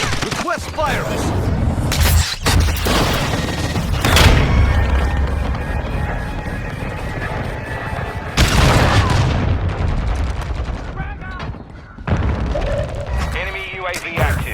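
Heavy booming explosions and rapid gunfire ring out in a Warzone Mobile artillery fire mission, loud and repeated, with radio-style game voices speaking between blasts.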